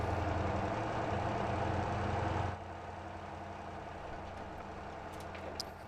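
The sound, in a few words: truck engine straining under heavy steel load in Motor Town video game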